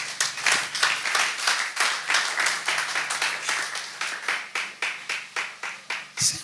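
Audience clapping in rhythmic bursts, steady hand claps repeating throughout with a brief shout or cheer near the end, fairly close and loud.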